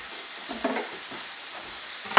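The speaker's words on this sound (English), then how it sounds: "I'm using a non-stick pan of butter over a high heat." Fish frying in butter in a non-stick pan over high heat gives a steady, close sizzle with soft crackling throughout, no voices.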